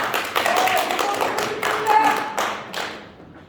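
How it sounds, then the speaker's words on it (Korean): Audience members at a public debate on city bus policy clap in a scattered, moderate round of applause that swells and then fades out toward the end. "박수 한번 주세요"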